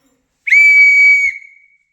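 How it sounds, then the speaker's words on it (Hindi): An old metal whistle gives one loud, sustained shrill blast of about a second, alone and close, with a brief fading tail. "तो ऐसे सीटी बजाई जाती तब"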